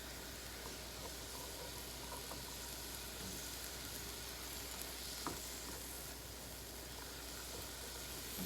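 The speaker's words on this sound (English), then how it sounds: "Stir so the color is even." Cauliflower fried rice with soy sauce stir-frying in a pan, a faint, even sizzle and hiss running throughout with a few soft scrapes of the spatula and no talk.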